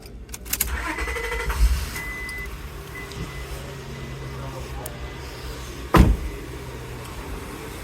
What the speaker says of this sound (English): We're going to start the car and see what the battery sits at